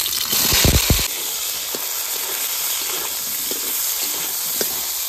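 Eggplant slices fry lightly in fish oil, a loud continuous sizzle and hiss with a few sharp clattering knocks at the start, then steady bubbling crackle close up.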